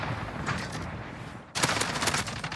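Cluster strike explosions in the game Modern Warfare, a rolling rumble of blasts that swells suddenly into a louder burst of rapid detonations.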